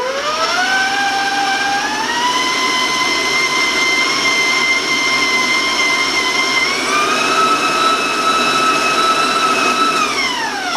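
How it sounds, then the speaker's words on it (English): An electric beater creaming cookie dough, a loud steady motor whine that rises in pitch as it speeds up, holds constant, then dips near the end, close and alone. "you'll want to beat this till it becomes very smooth and very creamy"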